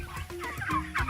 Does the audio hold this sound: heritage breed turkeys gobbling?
yes